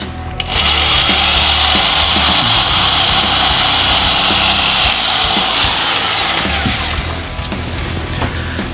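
A power drill bores a 5 mm hole with a loud, continuous high whine that starts abruptly, holds steady for about seven seconds with a slight pitch drift, then drops off.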